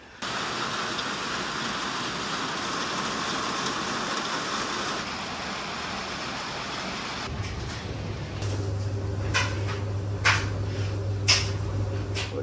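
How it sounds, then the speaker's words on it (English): Heavy rain pouring down at a campsite near Norwich, a dense steady hiss that continues throughout, with a low hum and a few sharp knocks entering in the later part. "It's absolutely belting it down with rain today."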